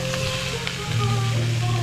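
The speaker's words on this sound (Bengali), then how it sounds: "চিলি চিকেনের পেঁয়াজ ভাজা হচ্ছে" Onions fry for chilli chicken at an outdoor puja fair cookout, a loud close sizzle that swells midway, with faint background chatter.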